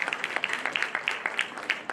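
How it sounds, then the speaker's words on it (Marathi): An audience at a felicitation ceremony for LIC policyholders claps in a brief, dense burst of applause, with many hands beating in quick, irregular rhythm close by. "जोरदार टाळ्या वाजवा."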